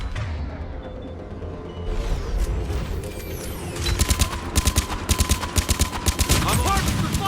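In Mass Effect, a harvester fires on Turians with rapid bursts of loud, rhythmic gunfire over a dense roar of battle noise, rumbling explosions and shouted voices.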